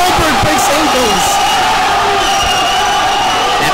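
A crowd cheering at a varsity high school basketball game in a gym, a sustained roar of voices with a few sharp shouts and thuds, loud and continuous.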